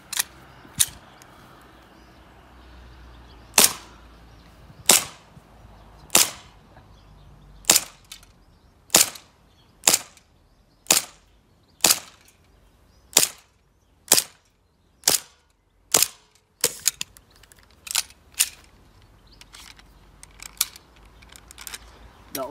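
Airsoft pistols, a Novritsch SSP1 and then a Glock, fire single sharp snapping shots spaced a second or two apart on a shooting range, finishing with a quicker burst of full-auto fire.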